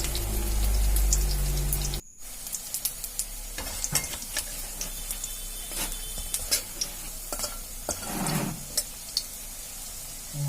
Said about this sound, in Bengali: ভালো করে বড়াগুলো ভেজে নেব।